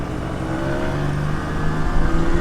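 Yamaha DTR 125 motorcycle accelerating through its gears, a rising buzzing engine tone that climbs, drops and climbs again, getting louder toward the end, with no talking.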